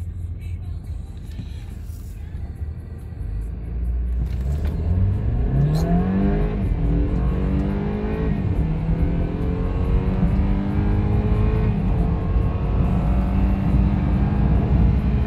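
A BMW F30 320i in Sport Plus mode launches hard from a standstill to 100 km/h, its engine note climbing steadily through several rising sweeps as gears change, loud and close with no talking.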